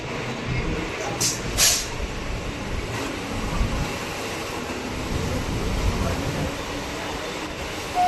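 A Sealdah–Kalyani Simanta local train pulls out from platform 1, a steady rumbling roar of rolling wagons with a couple of brief higher hisses early on, heard from a nearby train at a busy station.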